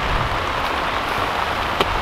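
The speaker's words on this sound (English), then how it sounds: "the heaviest rain is getting here now" Heavy rain pours steadily onto farm tunnels, a dense, even hiss with a few sharper drops standing out, close and constant, with no voices.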